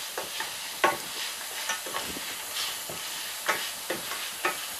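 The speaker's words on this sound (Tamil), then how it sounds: "ஸோ இதை நல்லா இப்படி மிக்ஸ் பண்ணிக்கோங்க." Mutton curry is stirred in a sizzling pan, a steady frying hiss broken by repeated scraping strokes of a spoon, close and fairly loud, no speech.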